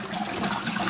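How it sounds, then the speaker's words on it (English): Water gurgles and trickles through the end of a white pipe in a garden water display, a steady close rushing, dribbling flow with no voices. "you're gonna hear the gurgle"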